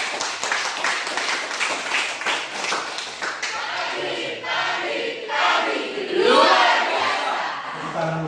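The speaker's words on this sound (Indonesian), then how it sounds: "tepuk tangan dulu Kak untuk kelompok 2" A classroom of students claps for a group, quick rhythmic clapping at first that loosens into scattered claps mixed with cheering, chatter and laughter, fairly loud and close.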